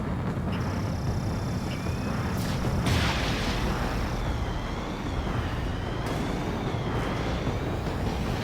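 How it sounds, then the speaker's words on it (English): Missile striking a bomber and exploding in the Ace Combat 7 flight game: a loud, sustained wash of jet roar and rumbling blast noise with some tonal whine layered over it, dense and continuous throughout, with no talking. "Bomber hit by a missile."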